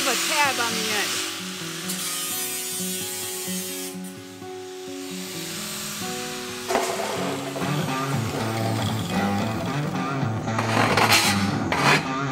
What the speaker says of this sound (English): You gotta file away at these real sharp cut edges because they will cut you